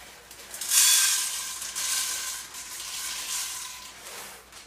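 Popcorn kernels dropped into hot oil in a pot on the stove, a close hissing sizzle that flares sharply, then settles into a steady crackle with smaller swells, with no talking.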